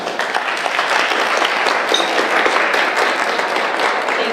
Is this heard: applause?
yes